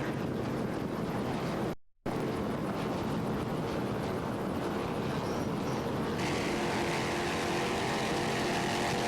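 Offshore powerboats in Class 2 racing on the Great South Bay off Patchogue, New York, give a continuous loud engine roar with wind buffeting, one brief dropout, then a steady drone with no talk.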